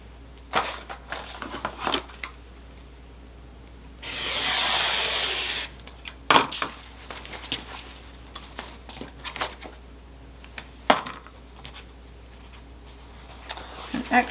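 Fabric being cut with scissors or a rotary cutter for a Christmas stocking, giving one sustained rasping cut of about two seconds among scattered light handling clicks and rustles, close and fairly quiet with no talk.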